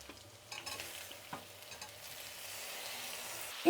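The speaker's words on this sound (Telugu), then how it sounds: "అలాగే టమాటాలు కూడా వేసుకుందాం." Tomatoes added to a pan of frying onions and garlic, a soft sizzle with scraping stirs and a few sharp knocks, steady and close with no talk.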